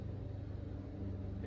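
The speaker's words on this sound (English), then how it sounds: "If you hear that faint noise in the background, it's actually a lawnmower." A low, steady motor drone hums in the background, faint and continuous, with no talking over it.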